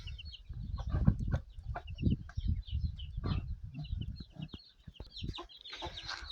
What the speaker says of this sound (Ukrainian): Ось кличе, кличе квочечка вже ближче до хліва